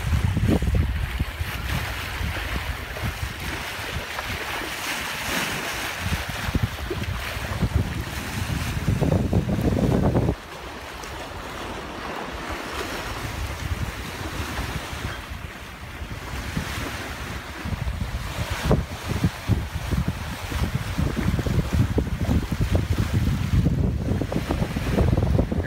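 A sailboat under way on the open sea between Provincetown and Maine, with steady wind roar buffeting the microphone and waves washing and slapping against the hull in rolling surges, loud and continuous throughout.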